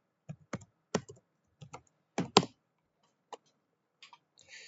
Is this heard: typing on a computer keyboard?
yes